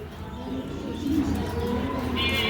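Male Andalusian pigeon cooing softly in a low, steady murmur close by, with faint background noise and a brief higher chirp near the end.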